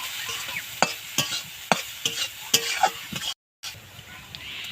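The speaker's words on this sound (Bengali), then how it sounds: "ভালো করে নেড়ে নিলাম" Ridge gourd and egg are stirred with salt and turmeric in a sizzling pan, with a series of sharp spatula scrapes at an irregular rhythm over a continuous frying hiss, broken by a brief silence.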